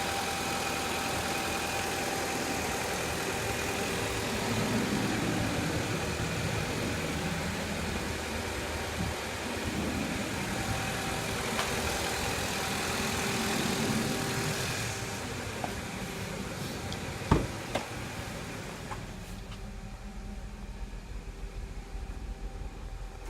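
A car engine idles steadily after its first start in seven years, a constant low hum with mid-range mechanical noise, holding level throughout and thinning slightly near the end with a brief knock partway.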